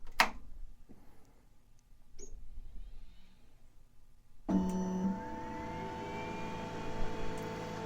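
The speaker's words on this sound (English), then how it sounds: "Turn on my power strip and turn on the printer." Geeetech Giantarm D200 3D printer powering on: a few faint clicks in near-quiet, then an abrupt jump to a steady, close whirring of fans and electrical hum that carries on to the end.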